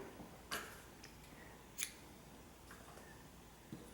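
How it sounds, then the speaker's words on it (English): A few quiet, crisp snips of scissors cutting yarn during crochet work, with two clearer cuts and softer clicks between them in a quiet room. "Chain 1 and cut your yarn."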